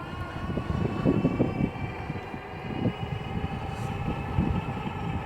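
Aventon Pace 500.2 electric bike cruising on throttle alone at about 20 mph on a slight downhill, with a steady motor whine and heavy wind rumble buffeting continuously throughout, loud and close, with no talking.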